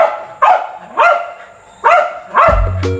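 Loud, close dog barks on a stage come in four bursts at an uneven rhythm, with a low hum underneath toward the end.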